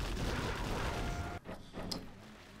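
In C&C Zero Hour, a terror attack sets off the explosion of a supply center: rumbling, booming blasts that cut off abruptly, followed by a brief sharp crack, with no talking.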